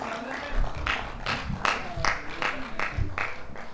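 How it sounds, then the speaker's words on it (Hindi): Audience at a Hindi comedy poetry gathering (hasya kavi sammelan) clapping in a quick, steady rhythm of loud, evenly spaced group claps, close and energetic. "जो एक बार ढंग से ताली बजा दो फिर मैं शुरू हो जाऊं।"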